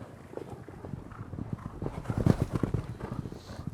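Racehorses gallop up a training gallop, their hoofbeats a quick, uneven drumming that grows louder and nearer over a few seconds of outdoor noise.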